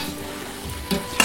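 Carrots hit a hot pan already frying meat and onion for lagman, giving a steady close sizzle with a few sharp stirring scrapes toward the end.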